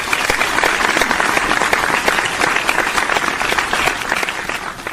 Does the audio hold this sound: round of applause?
yes